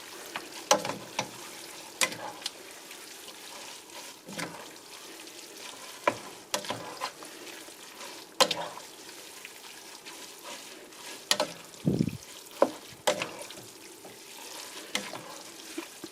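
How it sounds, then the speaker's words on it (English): Smoked sausage pancit bihon stirred in a pan, rice noodles sizzling gently while a utensil scrapes and taps the pan in irregular bursts over a soft steady fry. "I'm just gonna keep mixing this"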